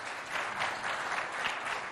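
Applause from a studio audience at a school quiz contest, a short burst of fairly faint, steady clapping from many hands, continuous with no talk over it.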